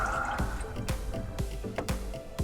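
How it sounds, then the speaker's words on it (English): Oil dripping slowly from the drain of a 6.7 Powerstroke diesel engine during an oil change, heard as steady, evenly spaced close drips landing into a catch pan about twice a second. "All right, so we got a slow drip."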